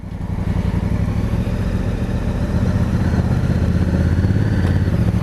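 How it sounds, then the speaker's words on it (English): A Honda CRF1000 Africa Twin DCT motorcycle engine idles steadily and loudly up close, a deep throbbing exhaust rumble with a slight clattering texture throughout. "hopefully you can hear the exhaust"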